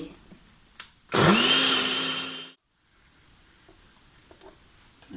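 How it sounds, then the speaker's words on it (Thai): A blender whirs loudly for about a second and a half while blending kale leaves, starting abruptly and cutting off, with quiet room noise before and after. "ปั่นเลย"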